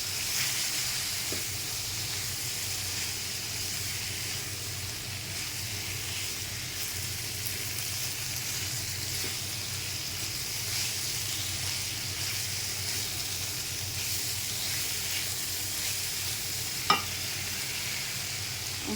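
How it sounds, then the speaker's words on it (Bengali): A paste of onion, garlic, ginger and coconut fries in a pan with a steady, even sizzle and hiss throughout, with a single sharp utensil tap near the end. "এর মধ্যে পেঁয়াজ রসুন আদা আর নারকেল বাটা দিয়ে দিলাম। এটাকে ভেজে নিতে হবে কিছু সময়।"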